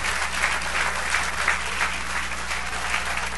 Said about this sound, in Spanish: Y dale el aplauso a Dios.